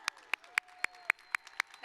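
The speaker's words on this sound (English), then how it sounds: "That's applause, sorry." A few people at a high school graduation ceremony give sparse, slow claps, about eight evenly spaced sharp hits in under two seconds. They sound fairly close and isolated, with no crowd swell.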